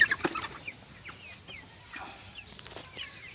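Young chickens cluck softly in a coop, a scattering of faint, short clucks and chirps over low background noise.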